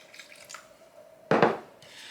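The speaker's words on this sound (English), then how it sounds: "then I'm going to add my milk and my water that I have mixed together." Mixed milk and water poured into coconut sweet bread muffin batter, a short splashing gush of liquid after quiet background, brief and close.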